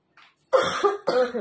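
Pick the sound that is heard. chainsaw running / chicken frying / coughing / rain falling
coughing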